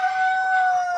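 A backyard rooster crows close by and loud in one sustained, steady, tonal call that holds for the whole second, with no talk over it.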